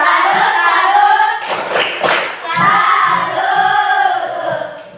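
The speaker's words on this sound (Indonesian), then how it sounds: "Mari kita beri tepuk salut untuk kelompok 3" A group of children claps the rhythmic 'tepuk salut' chant in a classroom, with sharp bursts of clapping mixed among lively chanting voices.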